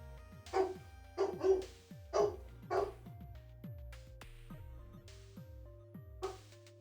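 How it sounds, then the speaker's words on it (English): Dogs bark in a burst of four or five sharp, fairly close yaps, then a few fainter scattered barks follow over a steady background hum. "dogs are barking"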